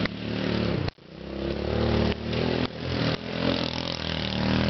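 A homemade go-kart engine runs loud and close, a steady motorcycle-like drone that revs up in a few surges, with a brief sharp drop in power near the start before it picks back up.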